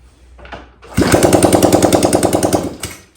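Yamaha XS650 chopper motorcycle engine being kicked over, with a couple of soft thumps before it catches and chugs in a loud, rapid, rhythmic pulse close by, then cuts out.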